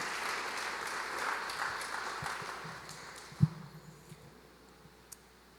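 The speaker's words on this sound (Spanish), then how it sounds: "deberían darse un aplauso por estar cambiando la historia de España" Applause from a church congregation during a Spanish-language sermon, a fairly soft wash of clapping that gradually thins and fades, with a few isolated louder thumps near the end.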